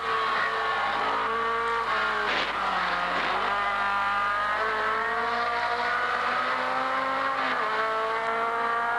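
A Chevrolet Camaro race car at Bathurst in the 1980 Hardie-Ferodo 1000, a loud onboard engine howl rising and falling through the gears, with dips on lifts and braking and no pauses.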